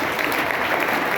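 An audience at a career guidance session for tenth-class students claps loudly and steadily throughout a brief moment, with no voices heard.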